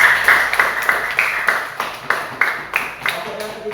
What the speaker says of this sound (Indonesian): Aplaus untuk kelompok yang kedua.